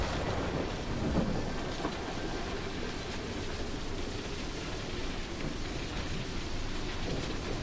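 Fortnite end-of-season live event storm: dense, steady rain roar with rumbling thunder, loud and unbroken throughout, no voices.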